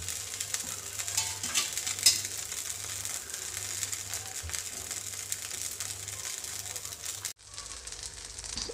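Rice dosa batter sizzles steadily in oil on a hot pan, a continuous close crackle and hiss that holds for several seconds before dropping quieter near the end.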